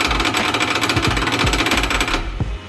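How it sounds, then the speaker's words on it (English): A pounding machine rapidly hammering sheet metal, a loud, dense mechanical chatter of very fast blows with a few heavier thumps, stopping abruptly near the end. "So they are all actually super fast hammers."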